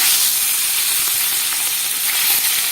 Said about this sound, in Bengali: আজকে এনেছে রুই মাছ, এরকম মাছটা ভাজতে শুরু করলাম।